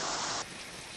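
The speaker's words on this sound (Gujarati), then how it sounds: "અત્યારે જે રીતે વરસાદ રાજુલા, જાફરાબાદ અને ખાંભામાં પડી રહ્યો છે" Heavy rain pours down in Rajula, Amreli, as a dense, steady hiss that drops abruptly to a quieter, even wash partway through the brief moment.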